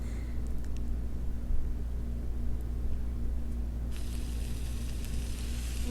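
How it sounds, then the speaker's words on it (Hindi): Gola kebabs fry in oil on a seasoning plate with a steady, fairly quiet sizzling hiss over a low hum, growing brighter and louder toward the end. "अगर आपके पास सीजनिंग प्लेट है तो आप पहले ऑयल डालें उसमें और बाकी कबाब जो हैं वो उसमें डाल दें"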